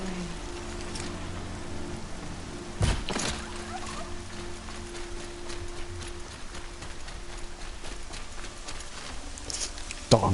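Steady rain in the video game Horizon Zero Dawn patters on a surface throughout, with a couple of louder knocks and faint movement sounds underneath.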